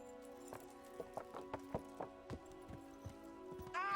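A horse's hooves clip-clop in Kingdom Come: Deliverance, a series of sharp, uneven knocks close by over a steady tonal hum, ending in a brief louder burst.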